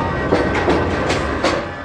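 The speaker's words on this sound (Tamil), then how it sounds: "ட்ரெயின் கிளம்பிடுச்சு கண்ணா" A train pulling away along railway tracks, loud and close, with a steady rumble and rhythmic clickety-clack of wheels over rail joints.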